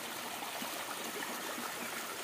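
A stream swollen after several days of rain flows as a continuous, even rushing hiss, fairly faint and close, with no voices.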